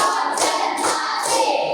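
Hands clap in unison as part of a counted classroom clapping game, with three sharp, bright clap bursts spaced evenly, close and loud, with no talk.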